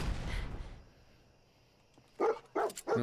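Dogmeat, the dog companion in Fallout 4, lets out three quick, loud barks close by after a brief quiet stretch, with a burst of game noise at the start.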